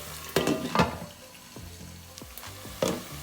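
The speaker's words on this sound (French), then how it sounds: "Je vais laisser mijoter pendant 2 à 3 minutes et on y revient." Mustard sauce simmers in a pan for a fried duck leg dish, a soft bubbling sizzle with a few louder spoon clinks and scraping knocks at scattered moments, no one speaking.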